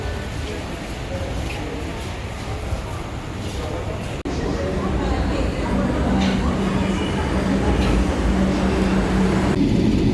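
A Kolkata Metro train runs between stations, giving a steady loud rumble of wheels and carriage noise throughout, which grows a little louder midway, with faint voices in the carriage.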